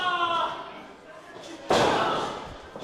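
A single sharp open-hand chop lands in a wrestling match, a loud slap cutting through crowd noise and ringing briefly. Commentary runs underneath it.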